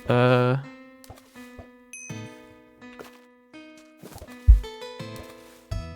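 Bright bell dings and chimes ring out during a Sea Skipper boat ride in Wynncraft, a Minecraft-based role-playing game, a loud opening chime followed by scattered tinkling tones and occasional low thumps.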